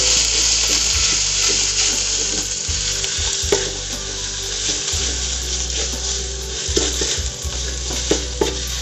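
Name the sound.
spice paste sautéing in oil for jackfruit curry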